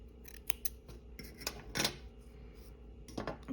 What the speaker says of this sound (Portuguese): Agora eu vou cortar o meu fio.